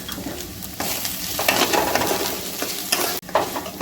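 Diced potato and carrot frying and being stirred in a pan with lightly fried grated coconut for a flattened-rice pulao: a steady close sizzle with scraping stir strokes and a brief dip near the end, no voices.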